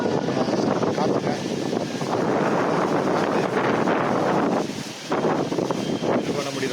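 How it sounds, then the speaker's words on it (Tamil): Strong wind buffets the microphone outdoors at night in Taipei, a loud continuous roar that dips briefly near the end. "காற்று சரியான காற்று"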